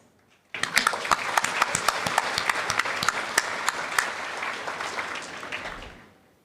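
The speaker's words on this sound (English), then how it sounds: "we would like to applaud loudly and from our heart to their services" Audience applause at a spiritual organisation's anniversary celebration in Africa starts suddenly after a moment of quiet, holds as a full, lively burst of many clapping hands, then fades out over about a second.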